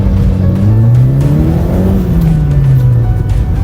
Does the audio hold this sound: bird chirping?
no